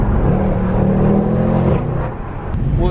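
A Mercedes C63 507 with a twin turbo V8 rumbles loudly from close range while driving on a road near Monaco, a deep steady engine drone that dips briefly before picking up again, with no talk.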